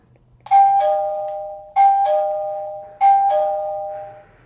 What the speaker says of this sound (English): it is a video doorbell